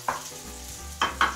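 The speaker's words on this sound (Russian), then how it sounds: "Высыпаем лучок туда. Ну и немного поджариваем." Chopped onion sizzles in a hot frying pan, a steady close hiss with a few stirring scrapes and bursts.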